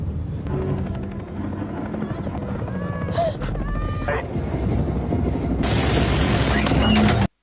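A helicopter's rotor chop and engine roar fill the scene with heavy wind noise, joined by brief metallic whines and effects, growing louder toward the end.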